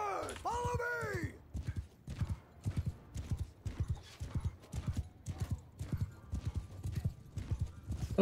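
Cavalry horses in the video game Mount & Blade II: Bannerlord, with a horse whinny at the start followed by a steady rhythmic clip-clop of galloping hooves, loud and close, continuing throughout.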